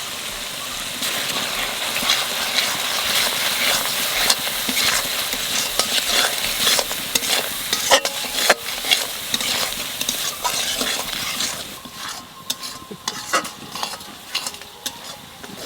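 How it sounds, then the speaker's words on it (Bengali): Spices with salt, turmeric and Kashmiri chilli powder fry for a chital fish curry in a steady, loud sizzle, with constant scraping and clattering as they are stirred in the pan, easing off toward the end. "মশলা কষানো হয়ে গেছে"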